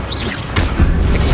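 In Hogwarts Legacy, an Incendio fire spell goes off as a loud, close burst, with a rushing whoosh and booming low rumble over constant game noise, followed by another sharp flare near the end.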